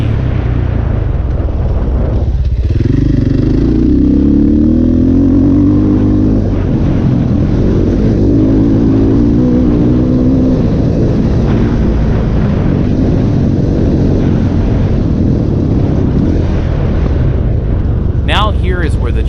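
A KTM enduro motorcycle tears along a high-speed stretch of an enduro track, its engine roaring loud and close with wind buffeting throughout, the pitch climbing and shifting as it pushes on.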